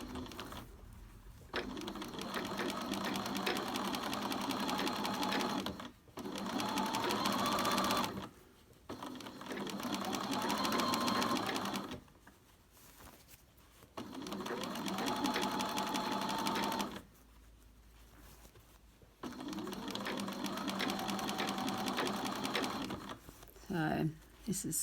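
A sewing machine stitches beret pieces in several bursts of steady rapid whirring, each lasting a few seconds and separated by pauses, close and clear, with a voice talking in between.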